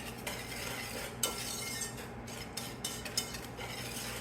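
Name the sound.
whisking sugar and flour together in a bowl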